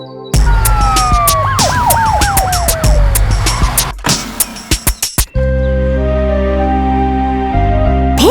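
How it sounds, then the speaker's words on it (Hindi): An ambulance siren wails loudly and close by, its rising and falling tones sweeping repeatedly, followed by sharp clattering hits and a lower steady mechanical tone. "मैं अभी एक एम्बुलेंस को बुलाती हूँ ताकि उसे हॉस्पिटल ले जाएं।"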